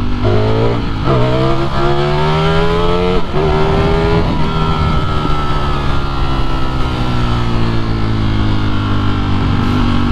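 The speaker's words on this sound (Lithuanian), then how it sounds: "V4 garsas, tai čia yra tokia, sakykime, vizitinė kortelė šito motociklo" A Ducati Streetfighter V4S motorcycle's V4 engine revs hard and repeatedly, its pitch climbing and dropping in loud, close bursts before settling into a sustained roar.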